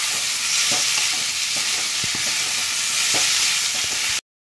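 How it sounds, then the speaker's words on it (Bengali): Banana stem sautéed in a pan for a vegetarian ghonto, a loud steady frying hiss with regular spatula scrapes, close up, cutting off abruptly at the end. "দেখো থোড়টা দিয়েও আমি ভালো করে কষিয়ে নিয়েছি"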